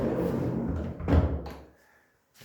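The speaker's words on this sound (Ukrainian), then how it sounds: "От двері такі от розсувні." A sliding glass shower door in a tiled bathroom is pushed along its track, giving a rolling rumble that ends in a soft thunk. It falls silent afterward, and no one speaks.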